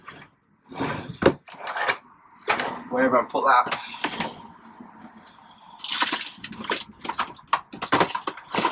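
Someone rummages through a drawer hunting for a calculator, with near, clattering knocks and sliding rattles in irregular bursts, broken by a short spoken remark.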